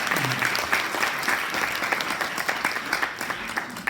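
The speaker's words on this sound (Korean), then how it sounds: "박수 한번 부탁드리겠습니다" An audience at a health consumers' NGO launch forum claps steadily for a few seconds after a lecture, a dense, even patter of many hands from a seated crowd, with a faint voice at the start.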